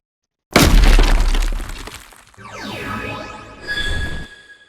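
Video game effect of wooden barrels and crates smashing: a loud, sudden crash of splintering debris, then swooping, sweeping tonal whooshes and a brighter ringing swell that fades out.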